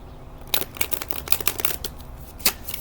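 Quick bursts of crisp riffling and soft slaps, like tarot cards being shuffled by hand, several flurries in a few seconds.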